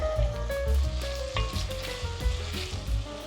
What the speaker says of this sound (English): I'm gonna go ahead and add the onions now.